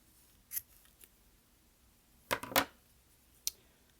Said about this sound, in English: This part you can now kind of cut off.